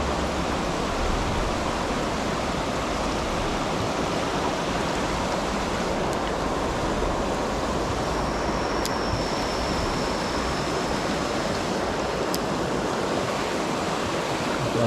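Water gushes down a stream in a continuous, loud, even rush that holds steady the whole time, close by and without voices.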